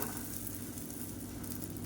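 Podi uttapam made from kuthiraivali millet, ragi and mappillai samba rice sizzles steadily on a hot pan as it is flipped, a close, even frying hiss with no talk.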